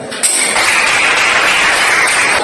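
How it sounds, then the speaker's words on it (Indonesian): Classroom applause for a student group makes a steady, dense wash of clapping that starts abruptly and keeps an even level throughout, with no voices over it. "tepuk tangan untuk kelompok yang sudah"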